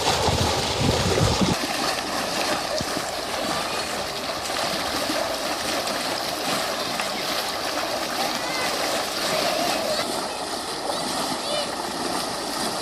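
Water gushes steadily from a burst pipe in the courtyard of a Zhytomyr apartment block at Easter, a constant rushing splash with people talking over it throughout.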